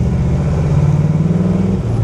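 A 1961 Chevrolet Corvette C1 convertible with a dual-quad 283 V-8 and four-speed drives along, its engine a loud, steady rumbling drone heard up close with road noise and no speech.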